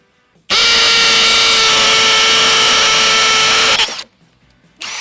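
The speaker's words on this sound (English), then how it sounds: "let's do hammer time. We're going to put it on high impact and just go to town." A Milwaukee M18 FUEL Gen3 hammer drill runs in hammer mode for about three seconds, a loud, close, steady high-pitched whine with rapid percussive chatter that starts abruptly and cuts off, followed by brief quiet and a restart.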